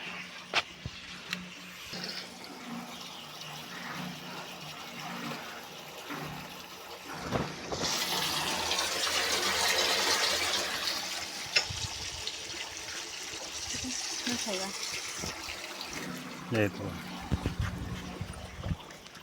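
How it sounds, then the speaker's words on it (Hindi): Water flows from a village water pipe deep in a forest, a steady rushing and trickling that swells louder midway and continues with a few knocks and rustles nearby; no speech. "यहाँ हमारे गांव के लिए पानी जाता है।"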